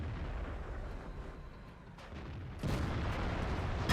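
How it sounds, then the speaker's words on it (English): A single heavy boom of artillery fire in World of Tanks lands in a dense rumbling battle soundscape, with a sharp louder burst partway through. "Now his artillery put in a cracker of a shot against the T-34, removing the first tank from the enemy team."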